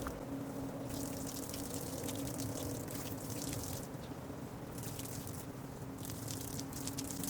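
Water runs from a BougeRV portable camping water heater in a soft, faint trickle with light splashing, pausing and resuming a few times along a low background hum.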